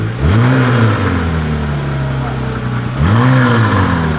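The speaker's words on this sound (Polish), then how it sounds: "O, troszeczkę gazu dodam." A Porsche 911 GT3 (997) engine revs sharply twice, each blip rising and falling, with a steady idle rumble between them, loud and close.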